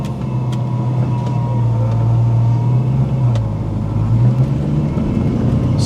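A 1994 Ford Mustang's engine idles steadily while warming up, a continuous low rumble with a faint blower hum from the air conditioning, heard up close from inside the car with no talk.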